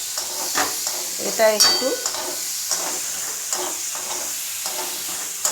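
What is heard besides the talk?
onions frying in a pan for chicken curry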